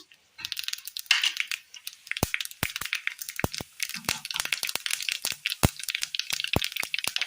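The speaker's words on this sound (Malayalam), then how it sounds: "ചൂടായ എണ്ണയിലേക്ക് കടുക് ഇട്ട് കൊടുക്കാം." Mustard seeds crackling in hot oil in a pan for a Kerala curry, a rapid irregular burst of sharp pops and crackles, close and lively, with a few louder snaps throughout.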